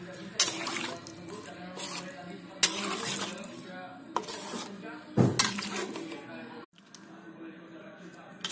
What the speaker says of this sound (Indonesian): Dan kita aduk kembali